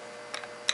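A Browning SA .22 take-down rifle bolt slides forward and locks into place, giving a few faint light metallic clicks followed by one sharper, brighter click at the end, close and quiet.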